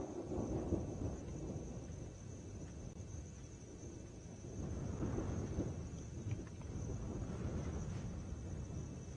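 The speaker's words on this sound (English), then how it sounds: "I'm not sure if you heard that thunder." Distant thunder rumbles low and steady under wind buffeting the microphone during a late-afternoon safari game drive in the open bush, swelling slightly midway.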